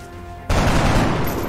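A rifle in XCOM: Enemy Unknown opens fire with a sudden loud burst after a quiet hum, a sharp crack rolling into a sustained, dense barrage of rapid shots that carries on without talk.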